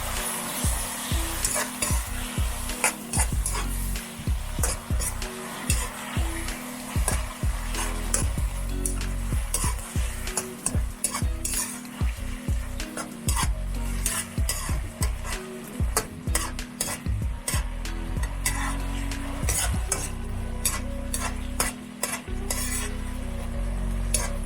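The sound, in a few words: stirring sauce in a pan for fried pompano fish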